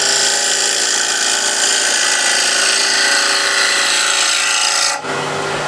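A spindle gouge cuts into wood spinning on a lathe, giving a steady loud rasping shave that runs unbroken for about five seconds, then cuts off abruptly into quieter motor hum.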